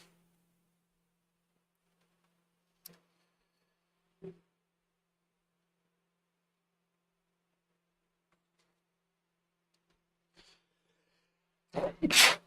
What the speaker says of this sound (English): That was an almighty sneeze.